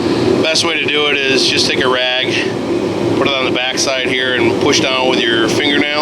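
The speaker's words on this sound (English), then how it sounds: "Sorry for the noise, the heat just kicked on." A home heating system that has just kicked on runs as a loud, steady blowing hum beneath someone talking through a hydraulic pump rebuild.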